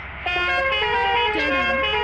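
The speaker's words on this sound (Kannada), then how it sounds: "ಅದು ಫಸ್ಟ್ ಹಾರ್ನು, ಸೆಕೆಂಡ್ ಹಾರ್ನು," A vehicle horn blares in a sustained, multi-tone musical pattern that starts abruptly after a brief moment of low hum and stays loud and steady throughout.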